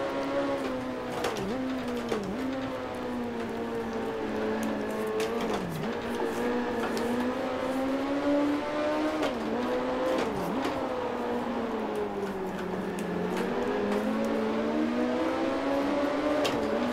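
A race car engine in the Grand Prix Legends racing game drones steadily and loudly, its pitch climbing through each gear and dipping sharply at every shift, repeating lap after lap with no voices.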